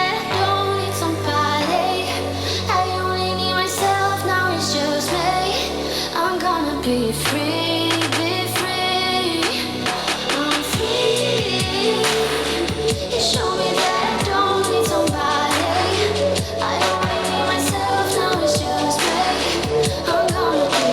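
Dense full-band music played back through a small Bugani portable speaker rated at 28 watts, sourced from a Samsung S26 Ultra with flat EQ; steady, loud and continuous, with punchy bass notes and bright percussive hits throughout, no talking.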